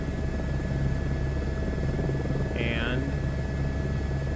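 An H125 helicopter in a flight simulator game drones steadily with a constant low rotor hum throughout, a brief higher tone chirping once near the middle, and a voice speaks briefly over it.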